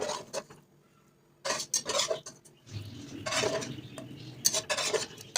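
Cooked cauliflower is scooped and served out of a pot, with intermittent metal spoon scrapes and clinks against the pot, a quiet gap, then a burst of stirring and scraping, close and fairly soft.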